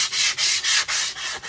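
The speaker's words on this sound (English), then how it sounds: "scuff sand, trying to take a little of the excess spackle off and get the surface ready for the base" Hand sanding excess spackle off a kitchen countertop, close and loud, with about six rhythmic back-and-forth scrubbing strokes of rough abrasive, each briefly broken by short pauses.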